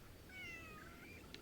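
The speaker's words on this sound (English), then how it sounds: "Is there a kitten lost deep in this canyon somewhere that needs a home?" A kitten meowing in the Crimson Desert video game, a faint thin drawn-out mew heard once over a steady background hiss.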